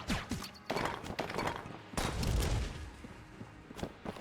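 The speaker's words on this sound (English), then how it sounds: "Can we shoot rocks? No, the shots go over the rocks." Rapid gunfire in the pixel-art dungeon shooter Enter the Gungeon, shots aimed at rocks, a stream of sharp cracks and thumps in irregular bursts with short pauses between them, close and fairly loud.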